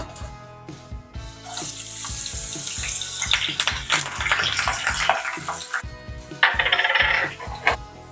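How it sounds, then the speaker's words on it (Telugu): Green chillies and curry leaves hit hot oil and burst into a loud, bright sizzle that swells after a quiet start and crackles unevenly for several seconds before easing. "ఆయిల్ వేడెక్కింది మనం పచ్చిమిరపకాయలు కరివేపాకు వేసుకుందామండి"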